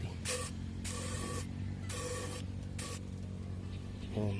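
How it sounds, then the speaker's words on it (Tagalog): WD-40 sprayed onto a rusty motorcycle fork clamp during a telescopic oil seal replacement: three short hissing bursts of roughly half a second each, close and fairly loud over a steady low hum. "spray lang natin ang WD-40"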